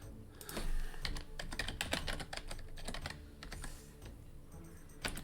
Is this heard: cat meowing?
no